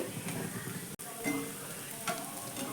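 Semolina tiffin snacks fry in hot oil in a pan with a steady, close crackling sizzle that briefly cuts out and then continues.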